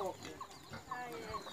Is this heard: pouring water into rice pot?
no